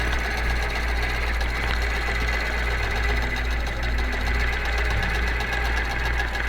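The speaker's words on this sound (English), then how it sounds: "so we'll push the go button and begin quilting." A QBOT computerized quilting machine stitches offset curves, a steady fast mechanical chatter with a low motor hum, constant and close with no pauses.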